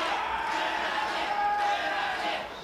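Pro wrestling arena crowd at a Gladiator Mike Awesome versus Hayabusa match chants and roars in a continuous loud mass of voices, with a tonal call threading through the din.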